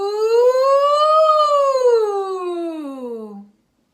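A single voice glides smoothly up and down in a wavering "ooh", imitating a siren, clear and close, ending in silence.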